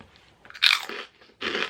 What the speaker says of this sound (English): perfectly salted, which I will try because I love pork scratchings